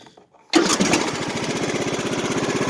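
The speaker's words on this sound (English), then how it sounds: "Now the engine's already warm, so it started up right away." A warm lawn mower engine is pulled over after a short quiet moment, catches at once and settles into a loud, steady low-RPM putter close by.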